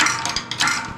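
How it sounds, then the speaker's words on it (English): Torque wrench set to 25 foot-pounds ratcheting as it tightens differential bolts, a quick run of close metallic clicks in uneven bursts, with no voices. "torque wrench set to 25 foot-pounds, and we're just going to tighten all these down"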